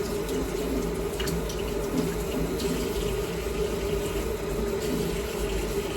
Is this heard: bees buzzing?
no